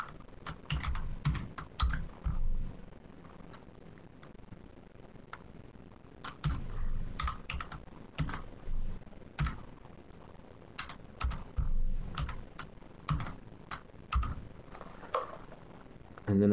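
Fingers typing on a computer keyboard, close and crisp, in bursts of rapid clicky keystrokes separated by short pauses, with no talking.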